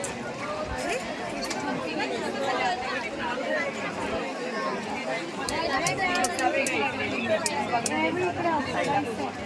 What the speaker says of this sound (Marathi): अरे किती भीड आहे समृद्धी